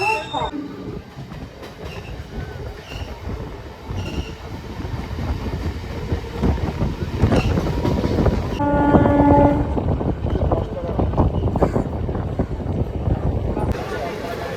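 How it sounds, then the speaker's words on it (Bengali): A suburban train on the Howrah line pulls in at platform 3 with a steady rumbling roar and clatter of wheels, a horn sounding midway, loud and near, with station voices and crowd noise under it. "আমাদের ট্রেন দিল 3 নম্বর প্ল্যাটফর্মে।"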